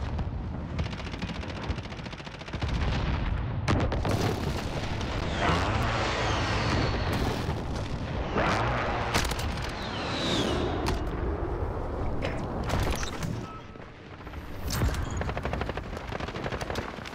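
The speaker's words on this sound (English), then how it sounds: "I need an airstrike. There's the airstrike." Airstrike explosions in the Modern Warfare video game, heard as a dense barrage of booming blasts and rapid gunfire. The sound is loud and sustained for most of the clip, with one brief dip near the end.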